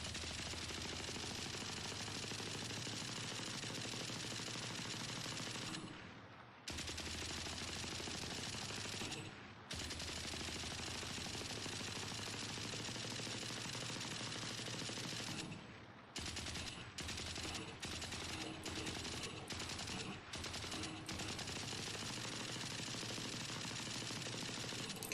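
Sustained automatic fire from a Valorant gun with a 50-round magazine while aiming down sights, long continuous bursts broken by a few short pauses and a stretch of choppy, stuttering shots near the end, loud and close with no talking.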